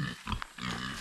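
A sow and her piglets grunting on a small farm, a few short close grunts and squeals against a quiet background with some low rustling.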